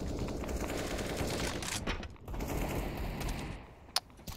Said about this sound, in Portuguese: tiro de AK.